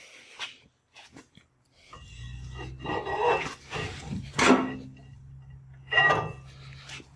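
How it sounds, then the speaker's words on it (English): Metal parts scrape, clunk and rub as the rear axle is pulled from a Jeep Wrangler YJ during a rear disc brake conversion, with a low steady hum beneath and sharp knocks near the end. "I can simply grab the axle and pull it out of the rig."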